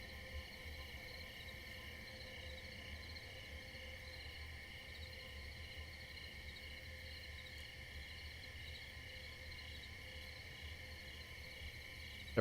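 Crickets chirp in a continuous, even chorus, fairly faint and steady throughout, with no voices present.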